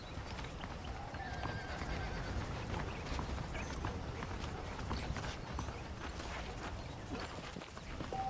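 A horse in Red Dead Redemption clip-clops along at a steady walk, hooves thudding continuously, with a neigh or whinny rising over the faint, quiet ambience.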